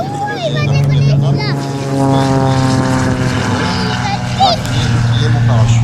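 Propeller-driven aerobatic plane taking off at an air show in Azelot, a steady droning engine hum with shifting pitch throughout, while someone talks close by over it.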